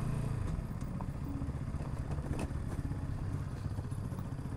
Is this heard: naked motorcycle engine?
yes